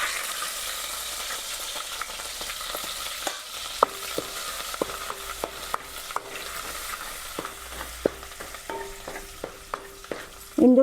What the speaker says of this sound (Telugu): లైట్గా ఫ్రై అయ్యే వరకు కలుపుకుందాం.